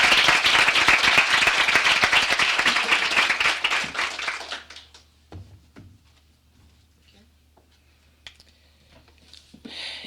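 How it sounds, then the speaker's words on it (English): Applause from an audience at an awards ceremony honoring female veterans, loud and dense at first, then thinning and fading out after about four seconds to near silence with a few scattered claps. "So I still would like to give her a round of applause."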